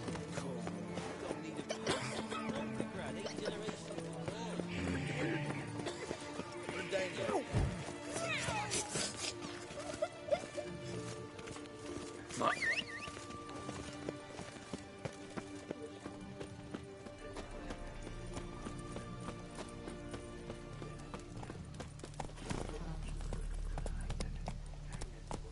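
A horse gallops in the video game The Witcher 3: Wild Hunt with a quick, rhythmic drumming of hooves that carries on steadily under game ambience and brief voices.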